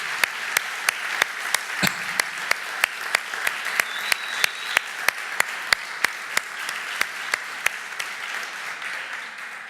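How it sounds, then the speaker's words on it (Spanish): A church congregation claps for visiting guests in a darkened sanctuary, a steady wash of applause running the whole time with sharp, evenly spaced ticks cutting through it. "vamos a darle un aplauso a todos los que nos visitan."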